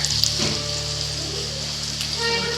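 Capsicum sizzling in a pan under a lid, a steady soft crackle and hiss that runs the whole time with a few light clinks, close and moderately loud.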